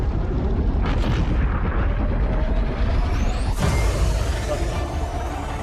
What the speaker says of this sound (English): Explosion from the gas.